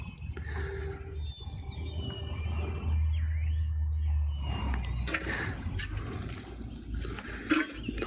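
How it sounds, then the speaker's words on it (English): Water pours and gushes onto loose soil and weedy garden plants, a continuous splashing rush that grows heavier in the middle and then trickles off unevenly. "I'm just watering dirt right now with weeds in it."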